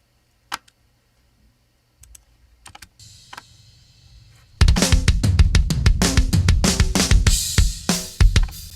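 In a metal mix, drum toms play a fill through a tom submix with soft content cut by EQ. A few faint ticks come first, then a loud burst of rapid, punchy tom hits with cymbal wash.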